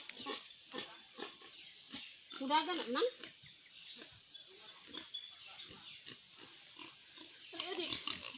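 Pigs grunt and oink on a rural farm, with repeated close grunts and a louder squealing burst midway and another near the end, while people talk throughout.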